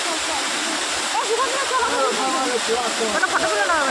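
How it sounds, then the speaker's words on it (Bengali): A large waterfall at a temple in a video game rushes as a loud, continuous wash of splashing water, with a voice talking over it. "এই সেই অযোধ্যা রাম মন্দিরে সেই ঝর্ণা দেখতে পাচ্ছ বিশাল খতরনাক ঝর্ণা"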